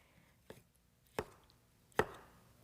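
A kitchen knife cuts through whole tomatoes on a board in three separate, crisp chops spaced under a second apart, each sharper and louder than the last, with near silence between.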